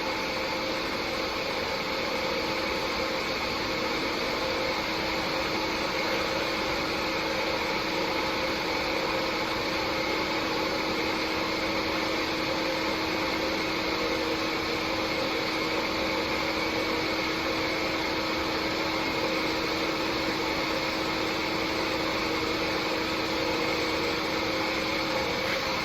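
A retrofitted Cincinnati CNC milling machine with a 4th axis resurfaces an engine block at 800 RPM with a very light cut, giving a constant, dense whine and hum that holds steady throughout, close and without speech.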